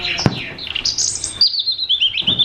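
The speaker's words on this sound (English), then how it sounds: "It's a little robin." Robin song from a push-button interactive nature display in a woodland area, a rapid series of high, bright warbling chirps and trills, fairly close and clear, pausing briefly before resuming.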